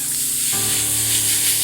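A sudden fizzing sizzle switches on and holds as a dense, steady hiss, close and loud with no talk over it.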